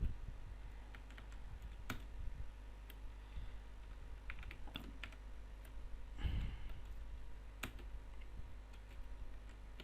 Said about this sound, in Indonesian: Atau gue ketik deh.